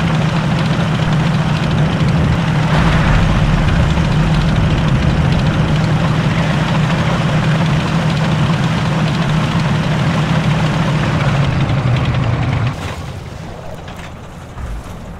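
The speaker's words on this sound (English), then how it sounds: "Stuka really close to me. Like 10 meters to my north." A Stuka dive bomber's engine drones loud and close in Forgotten Hope 2, a heavy steady low roar that holds for about twelve seconds before abruptly dropping away to a quieter rumble.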